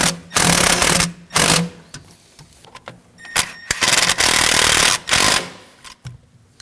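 Bursts of a power ratchet or impact tool run nuts onto studs on a 3.5L V6 engine in a 2009-2014 Ford F-150, several loud close whirring pulses with short clicks between them.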